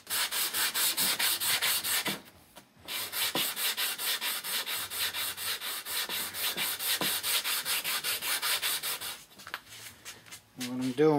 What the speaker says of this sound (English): I'm giving it that final sanding with the uh, I'm using 150 fresh 150